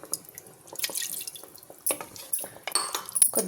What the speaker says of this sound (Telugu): ఇప్పుడు ఒక చిన్న టీ కప్ అంత వాటర్ వేసుకునేసి కుక్కర్ మూత పెట్టేసుకుని